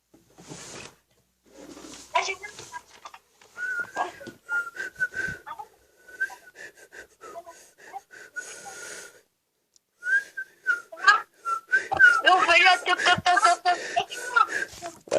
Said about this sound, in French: Je vais siffler une belle chanson.